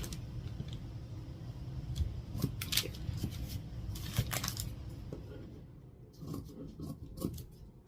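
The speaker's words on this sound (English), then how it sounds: "when I'm cutting anything like this to go around and cut all of the these parts first" Scissors snip through fabric while a hexagon quilt block is cut from scraps, giving a run of close, crisp cuts and small rustles with irregular gaps between them.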